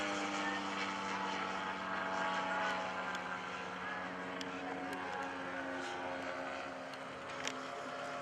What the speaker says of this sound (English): Powered by a DA Desert Aircraft 2-cylinder horizontally boost air-cooled engine.